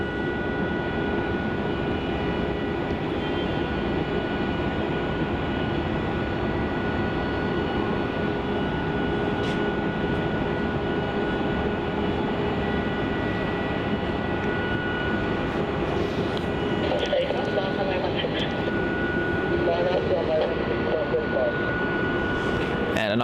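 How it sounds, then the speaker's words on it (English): An Air New Zealand Boeing 777-300ER arriving from Auckland lands at Melbourne Airport, its engine noise a steady broad roar that swells slightly toward the end, with talk running over it throughout. "Coming in from Auckland with the 777-300ER."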